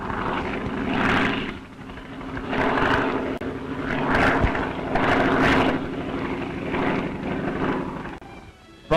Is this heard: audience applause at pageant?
no